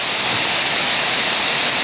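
Heavy monsoon rain in Thailand pours steadily in a dense, unbroken hiss, loud and close.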